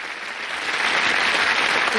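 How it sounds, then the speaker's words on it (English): A game show studio audience, the 1987 Family Fortunes, applauds a family in a dense, continuous burst of clapping that swells slightly louder as it goes on. "The Needles join in the applause for the Goom family."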